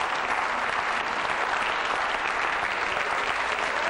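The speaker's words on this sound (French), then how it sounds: "Allez, applaudissez-vous très fort, vous le méritez." A television game show studio audience applauds loudly and steadily, a thick, even wash of clapping with no pauses.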